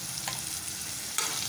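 Jackfruit masala with ginger garlic paste sizzles steadily in a pan, an even frying hiss with a couple of soft stirring scrapes.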